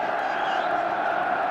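A capacity crowd of 48,000 at Villa Park roars as one steady dense wall of noise for an FA Cup semi-final between Everton and West Ham, with no single voice standing out.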